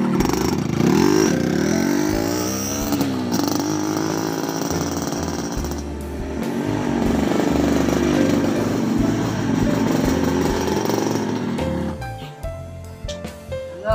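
A motorcycle ride with a loud, continuous engine drone and shifting revs lasting throughout, while passengers talk over it.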